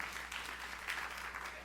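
A church congregation claps together in sustained, dense applause filling the room at steady loudness from start to finish.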